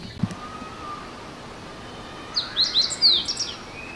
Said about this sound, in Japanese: 鳥の鳴き声が綺麗ですね。